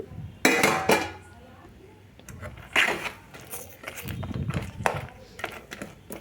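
Peanuts being stirred into thick jaggery syrup in a pan, with a few loud metallic scrapes and clanks of a spoon against the pan, plus softer shuffling stirring between them.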